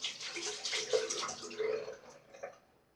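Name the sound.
water added to shaving bowl while lathering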